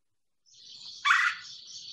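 A red-bellied woodpecker's call, a harsh rolling churr that fades in, swells into one louder burst near the middle, then carries on steadily at moderate distance, with no other sound around it.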